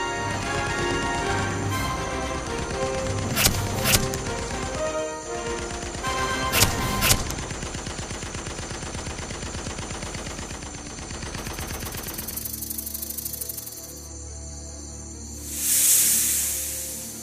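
Rapid bursts of gunfire crackle over a dense, noisy background, with a few sharper loud shots standing out and a hissing rush toward the end.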